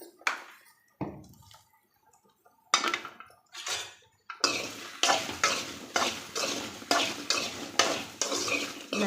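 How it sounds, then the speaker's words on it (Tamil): Okra stir-frying in a pan with salt and turmeric powder, for a spicy kara kuzhambu. Sparse scrapes give way to a brisk, regular run of close, loud stirring strokes over a sizzle, with no talking. "நல்லா ஒரு 3லேருந்து 4 நிமிஷம் போல் நல்லா வறுத்துங்கன்னா இதனுடைய வளவளப்பெல்லாம் சுத்தமாக போயிடும்"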